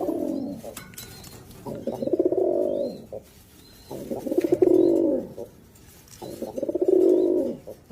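A running pigeon coos close by in three drawn-out, throaty rolling bursts separated by short pauses, with faint chirps in the background.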